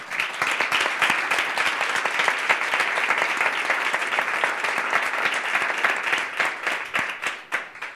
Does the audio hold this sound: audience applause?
yes